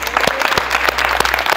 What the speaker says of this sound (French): on vous applaudit tous.